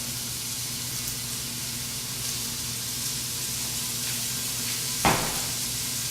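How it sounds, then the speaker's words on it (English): Ground meat browns a handful at a time in a hot pan for chili, giving a steady soft sizzle with a brief stir or clink near the end. "Oh, that lovely sizzle,"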